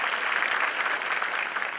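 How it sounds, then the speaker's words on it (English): An audience at a chartered accountants' branch event in Ahmedabad applauds to welcome a speaker, an advocate of the Gujarat High Court. The clapping is brief, steady and dense, with no voices over it. "Request all of you to please welcome with a big round of applause."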